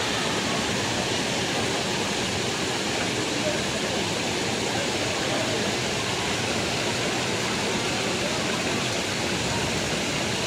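A steady, loud rush of falling water fills the whole stretch, constant and unbroken like a nearby waterfall.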